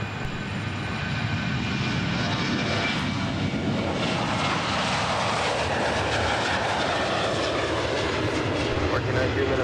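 Airliner landing on runway 30 left at Minneapolis–St. Paul airport, its engines giving a continuous loud roar with a whining tone that stays level and close throughout.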